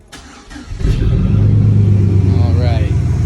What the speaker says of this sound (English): Go ahead and start her up. Cranking.